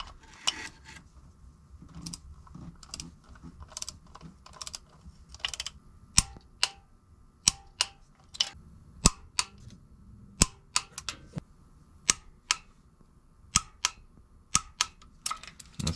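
Sharp metallic clicks ring out from a torque wrench tightening bolts on the oil filter and cooler housing of a Jeep Wrangler JKU, close and distinct, arriving in an irregular rhythm of separate snaps with light handling noise between them.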